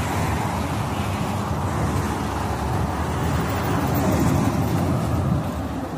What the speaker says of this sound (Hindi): ये मेन रोड पे दुकान है, गाड़ी बहुत स्पीड में निकलती है